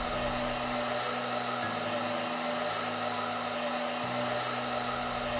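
A hair dryer drying an animal in a vet hospital video game blows in a steady, loud whir with a constant hum, shifting slightly in pitch a few times without ever stopping.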